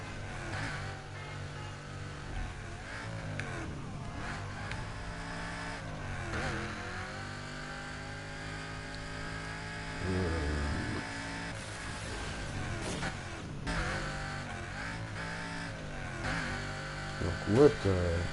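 A car in the video game Burnout Paradise drives and revs continuously, its engine droning steadily with rising and falling pitch sweeps, game music layered underneath, and a louder surge near the end.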